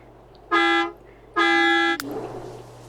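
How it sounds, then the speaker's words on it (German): Two long, steady car-horn blasts from The Sims 3 sound outside, each lasting about a third of a second, followed by a brief sharp knock and a low background hum. "Draußen hupen sie immer noch wie die Bläden."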